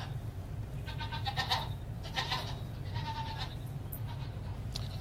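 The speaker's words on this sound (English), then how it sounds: "Baby goats in pajamas." Baby goats dressed in pajamas bleat several times in short, wavering cries at moderate distance over a steady low background hum.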